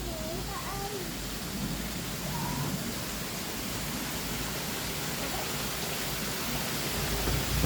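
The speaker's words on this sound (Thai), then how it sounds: "ข้างก็เป็นน้ำตก" A waterfall on a mountain hiking trail gives off a steady, broad rushing wash of water that runs the whole time, with faint distant voices and a few high calls under it.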